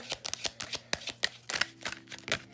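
Tarot cards are shuffled and drawn in a steady run of crisp riffling flicks and soft slaps, close and fairly quiet, with no talking.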